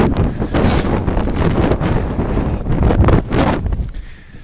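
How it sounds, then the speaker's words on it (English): Strong headwind during a snowstorm near the DAPL protest camps buffets the microphone with loud, gusting, roaring rumble that swells and eases throughout, with no speech. "I'm in a headwind."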